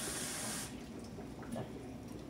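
Cold tap water pours steadily into a pot of rice being rinsed, a continuous close splashing wash that eases slightly partway through.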